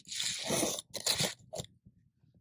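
Jiffy Pop popcorn being eaten at a backpacking camp in the Ocala wilderness, with a few close crunchy bites and chews that fade into quieter soft mouth sounds.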